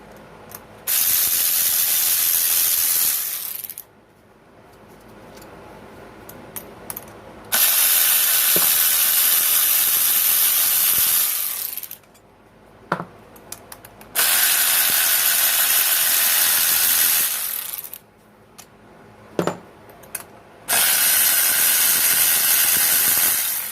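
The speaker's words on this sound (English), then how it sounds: "So now we just need to grab a 10mm socket on our ratchet to get these ignition coils out." A ratchet with a 10mm socket backs out ignition coil screws on a 2007 Chevrolet Cobalt, a loud, close rapid clicking in four long bursts separated by short pauses.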